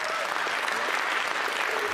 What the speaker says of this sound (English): what are they clapping about?